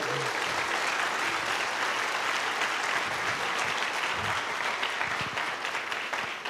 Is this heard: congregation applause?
yes